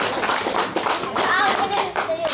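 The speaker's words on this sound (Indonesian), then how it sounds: "tepuk tangan untuk kita" Clapping hands in a busy room at a neighborhood Halal Bihalal gathering, a short burst of applause mixed with chatter and voices.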